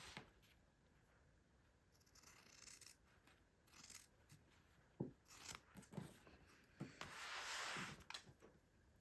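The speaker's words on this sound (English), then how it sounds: "Let me grab my fabric scissors, and I am going to just trim the corners here." Fabric scissors trim the corners of a junk journal fabric piece, giving a few faint, close snips and rustling scrapes over a quiet background.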